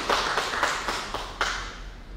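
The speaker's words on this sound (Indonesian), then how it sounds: "Tepuk tangan Bapak dan Ibu" Scattered, sparse hand claps from a small audience at a discussion forum, a handful of separate claps at moderate distance that fade quickly.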